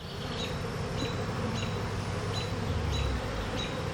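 Honeybees buzz around an open hive during a Demaree swarm-control inspection, a loud, continuous close-up drone with individual insects whirring past the microphone.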